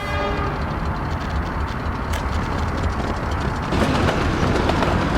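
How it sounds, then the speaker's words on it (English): An iron freight train rolls past in the game Workers & Resources: Soviet Republic, a loud, steady rumble with rhythmic clatter that grows harsher toward the end. "There's an iron train."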